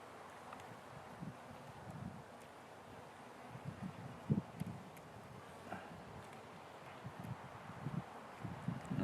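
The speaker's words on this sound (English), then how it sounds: "there's our beautiful southern Nevada wind kicking up" Southern Nevada wind gusting outdoors around beehives, a steady broadband rush with soft buffeting on the microphone and occasional rustles, rising toward the end.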